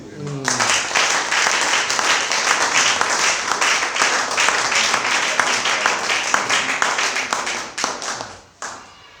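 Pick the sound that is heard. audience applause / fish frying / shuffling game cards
audience applause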